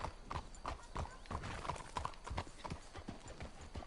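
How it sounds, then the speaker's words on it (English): Video game horses, being hitched up on the trail, trot with a rapid, steady clip-clop of hooves close by, the rhythmic hoofbeats filling the scene without pause. "Let's hitch the horses up ahead."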